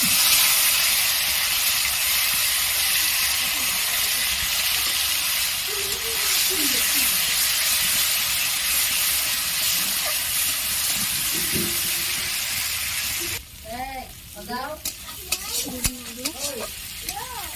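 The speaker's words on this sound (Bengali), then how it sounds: "বেটে রাখা তেলটা আমি ভেজে নেব" Ground sesame paste frying in hot oil in a kadai for a sesame and pointed gourd curry, a steady close sizzle and hiss with a few stirring scrapes; the sizzle drops and turns sharper and more crackly near the end.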